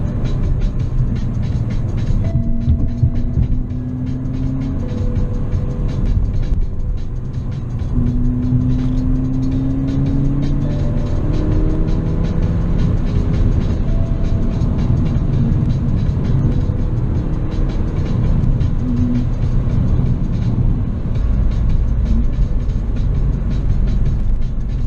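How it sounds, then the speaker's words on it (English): A Ford Fiesta ST drives along a canyon road, heard from inside as a steady, loud engine drone and road rumble with rising and falling tones as it accelerates through gears. "This car is very nice with this torque curve."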